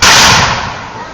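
Rear rank of musketeers firing a musket volley at a combined arms demonstration, one sharp loud crack at the start that decays into a rolling echo over about a second.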